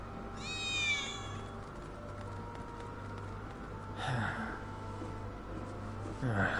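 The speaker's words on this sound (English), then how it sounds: "I swear I just heard a cat." A cat meowing in the video game Final Fantasy 7 Remake, with a few clear meows, one early and two more later, over a steady game ambience.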